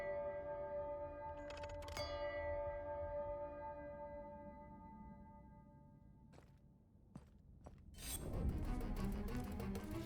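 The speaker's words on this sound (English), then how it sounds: "I really like the deep gong." A deep gong from the video game Chants of Sennaar rings out with a long, resonant sustain and slow fade, followed by a few sharp chiming strikes and a louder swelling burst near the end.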